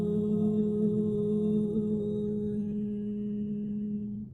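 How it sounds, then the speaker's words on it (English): Group chanting Om in a quiet indoor session: a steady, low, sustained hum with rich overtones, continuous and fairly soft, fading slightly toward the end. "That sound is Om."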